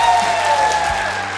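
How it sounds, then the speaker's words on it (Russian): Studio audience applause on a Russian TV show set in Arkhangelsk, a steady dense clapping wash held at even loudness, with a faint musical tone sustained underneath. "Вам аплодисменты."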